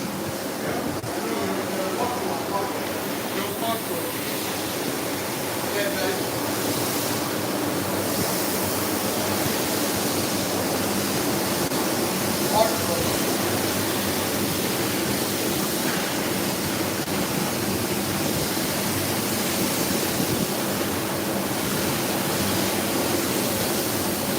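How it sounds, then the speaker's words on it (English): A power washer sprays the bound cord edging of a synthetic rug, producing a continuous broad, hissing rush of water that stays fairly even throughout with only small shifts in intensity. "That's the part that we power wash"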